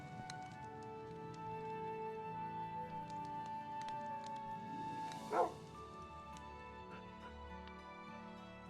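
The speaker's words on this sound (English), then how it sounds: "I did find another dog wandering around the grasslands here with that cow, and I tamed him with some bones" A tamed dog in the Minecraft video game barks once, a short yip standing out briefly over a steady layered background of game music and ambience.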